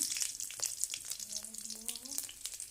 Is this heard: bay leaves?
yes